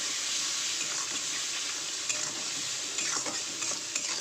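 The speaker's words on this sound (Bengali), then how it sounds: "পরিমাণ মতন হলুদ গুঁড়ো, আর দেবো লঙ্কার গুঁড়ো, দেবো পরিমাণ মতন নুন, দিয়ে মশলাটা একটু কষাবো।" Ginger-garlic paste with turmeric, chilli powder and salt frying in oil for a boal fish kalia, a steady close sizzle broken by scraping spatula strokes as the spices are stirred, with no talking.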